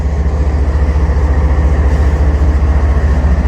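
A freight train rolls steadily past nearby, giving a loud, continuous low rumble with a regular rhythmic thump of wheels over rail joints, alone without voices.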